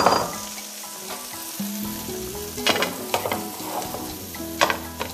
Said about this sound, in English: So my butter has melted and I'll be adding my onions.